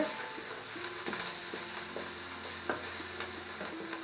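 Onions fry in a pan for chicken paupiettes, giving a soft, steady sizzle with faint, regular stirring taps and scrapes, quiet and close, with no talking.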